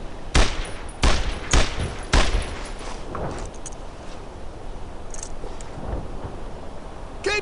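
Gunfire in the World War II shooter Brothers in Arms: Earned in Blood, several loud close bursts in the first couple of seconds, then more scattered distant shots.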